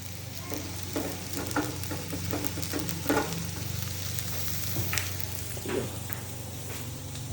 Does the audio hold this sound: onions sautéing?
yes